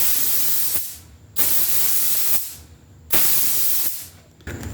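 Spray gun shooting a coat of blue pearl flake Rust-Oleum paint, three long steady broadband hissing passes, each about a second or more, separated by short pauses, close and loud with no talking.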